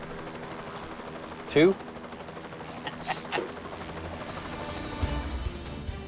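A helicopter drones steadily with a low, thrumming engine beneath brief talk and a few sharp clicks.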